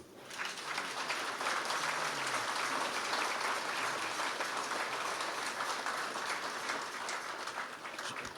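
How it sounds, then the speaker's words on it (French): Dense, sustained applause from a large crowd at a tribute ceremony for the Sultan King of the Bamoun fills the whole stretch, steady and loud, tapering only slightly at the very end. "je souhaiterais vraiment qu'on les applaudisse"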